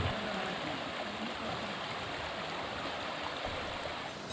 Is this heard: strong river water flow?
yes